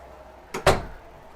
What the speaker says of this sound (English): You open this door, and here we go.